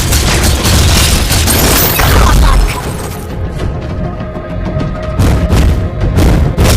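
Booming turret-destruction explosion in Mobile Legends: Bang Bang, a loud crashing blast with debris, then quieter game effects and more impacts, with announcer-style game voices.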